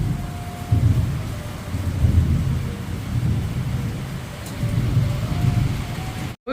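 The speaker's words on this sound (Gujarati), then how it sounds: "એવો વરસાદ ગાજે છે ને" Thunder rumbles in slow rolling swells over steady rain during a thunderstorm, low booms rising and falling across the stretch, with the downpour hissing constantly beneath.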